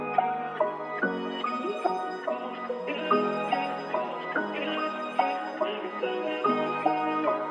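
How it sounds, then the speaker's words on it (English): A slow, low-pitched melodic music sample, pitched down six semitones, loops with sustained tones and regular soft note onsets, steady and fairly loud, with no voices. "I pitched it down 6 semitones, and it sounds like this."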